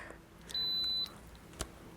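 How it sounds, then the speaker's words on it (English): A single electronic beep from an air circulator switching on, steady and high-pitched for about half a second, close by in a quiet room with faint clicks around it. "Well, it did beep on."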